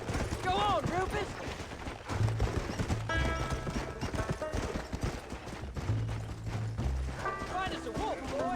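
Rapid hoofbeats of a galloping horse clatter steadily in the video game Red Dead Redemption, with a horse whinnying at the start and end, amid game background sounds.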